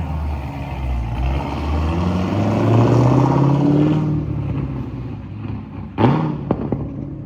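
A 2014 Infiniti Q50 3.7 engine revving and accelerating away, its pitch rising then fading into the distance, followed by a few brief clanks.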